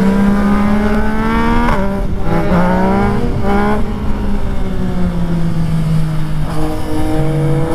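A Triumph 765 RS motorcycle revving loud and close, its engine pitch climbing and falling through several throttle blips with a strong harmonic whine and no voices.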